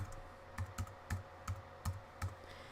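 Computer keyboard typing as a new folder is named: about nine separate, evenly spaced key taps, close and fairly quiet, over a low steady hum with no talking.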